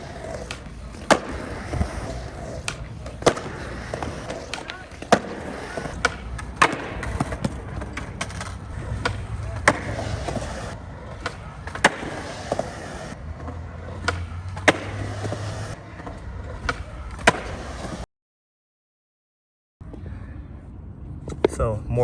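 Repeated sharp wooden snaps and clacks of skateboard kickflips landing, done in Herman 3 suede shoes, spaced every second or two over a rolling scrape of wheels, with a brief silent gap near the end.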